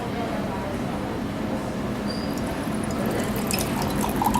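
Tap water runs steadily as lab equipment is rinsed in a sink, a continuous broadband rush with a few faint clinks and splashes toward the end, close and fairly loud, with no voices.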